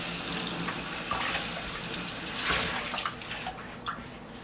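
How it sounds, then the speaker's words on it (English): Tap water runs steadily into a sink while a dish or pan is rinsed clean of soapy water, a continuous close hiss with small splashes and shifts in the flow. "And then I'm going to give it a nice rinse"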